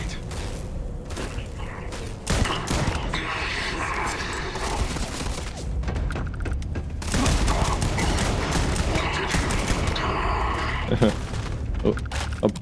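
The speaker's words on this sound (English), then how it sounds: "The hell just exploded on my face." Explosions and gunfire in the sci-fi video game Starfield during a mine mission, with loud bursts, booms and rattling shots coming in waves over dense game audio, with a voice talking over it.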